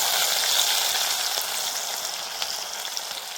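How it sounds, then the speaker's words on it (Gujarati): Ginger-chili paste spits and crackles in hot oil with whole spices, a loud, dense, continuous sizzle close up that eases off slightly toward the end. "પછી નાખી દઈશું આપણે આદુ મરચાંની પેસ્ટ વઘારમાં."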